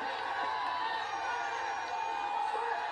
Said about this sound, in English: This is the crowd yelling off.